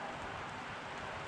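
Rain pattering steadily through the woods during deer season in Pennsylvania, a soft, even hiss of drops with faint wind, low in level and uninterrupted.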